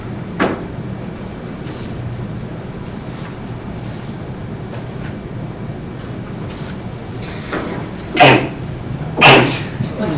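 Loud, sharp sneeze-like bursts near the end of a city council meeting, two in quick succession over faint room noise and background talk.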